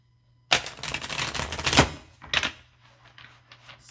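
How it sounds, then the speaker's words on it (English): Tarot cards being shuffled, a dense rapid riffle of crisp card flicks lasting over a second, then a shorter second riffle and a few soft taps, close and clear with no talking. "I'm just going to shuffle two more times."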